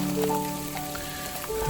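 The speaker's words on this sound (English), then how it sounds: "now it's just a mix of sleet and snow, but a little bit of freezing rain here and there" Sleet and freezing rain mixed with snow fall during a winter storm, giving a steady, soft patter with faint tonal hum in the background and no voices.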